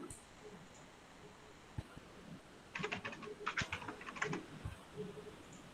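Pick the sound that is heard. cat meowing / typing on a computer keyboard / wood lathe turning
typing on a computer keyboard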